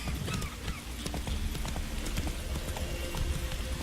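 Roach, the horse in The Witcher 3, galloping at full speed, with a rapid continuous drumming of hoofbeats under a dense wash of wind and game ambience, and a brief voice heard over it.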